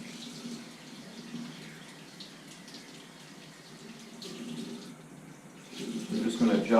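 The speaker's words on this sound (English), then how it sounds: "I'm going to fill it with lukewarm water" Lukewarm tap water runs from a faucet to fill a trombone slide, a steady close hiss and splash that swells louder and fuller toward the end as the water level rises.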